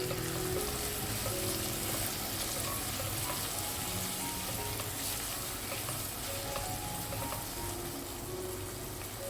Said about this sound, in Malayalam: ഇനി നമ്മൾക്ക് ഇതിലേക്ക് ഒരു ചെറിയ വലുപ്പത്തിലുള്ള തക്കാളി അരിഞ്ഞിട്ട് കൊടുക്കാം. അതിൻ്റെ കൂടെ തന്നെ ഒരു 2 പച്ചമുളക്, കുറച്ച് കറിവേപ്പില. ഇത് നമുക്കൊന്ന് വാട്ടിയെടുക്കാം.